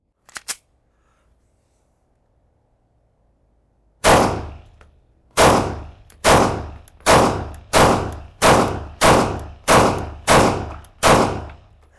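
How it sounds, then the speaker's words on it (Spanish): Pistol shots from a Canik TTI Combat at a range: after a few faint clicks and a pause, nine loud, sharp cracks ring out in a steady, fairly quick rhythm, each with a short decaying tail, no talking. "Y aquí estamos finalmente para disparar algunos tiros con esta Canik TTI Combat"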